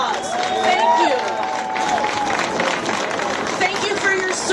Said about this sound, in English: Let's all give them a huge round of applause